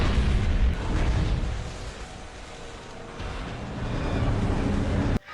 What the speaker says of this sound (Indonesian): sebelum akhirnya perahu tersebut meledak